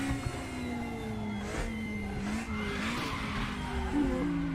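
A raspy race car engine in the RaceRoom racing game drones continuously, pitch rising and falling with gear changes, with a brief tire squeal along the way.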